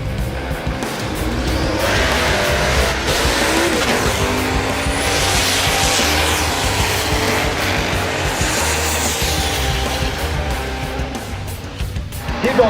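The Blasphemi drag car tears down the strip during Hot Rod Drag Week, a loud, sustained engine roar with tire noise that holds steady across the run before easing off at the end.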